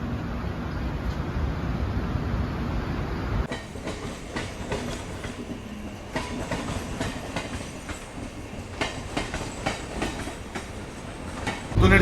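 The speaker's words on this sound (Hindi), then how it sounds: "तो निर्धारित समय से अपनी दुरंतो एक्सप्रेस निकल चुकी है मुंबई सेंट्रल से।" The Mumbai–Indore Duronto Express runs steadily after leaving Mumbai Central, with a loud, close rumble and rhythmic clickety-clack of wheels on rail joints throughout, and no talking.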